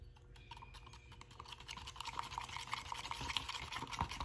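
DIY paint being stirred with highly pigmented powder: a continuous quiet scraping, brushing sound of a tool working the mixture, steady and close.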